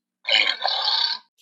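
A single loud, rasping belch-like grunt from a walrus, lasting about a second, close and alone against silence.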